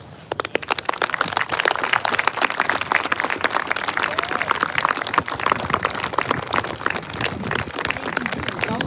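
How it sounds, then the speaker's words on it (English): Crowd at a national candlelight vigil for the missing gives another round of applause, starting thin then swelling into sustained, crackling clapping that carries on steadily throughout. "Can y'all give her another round of applause?"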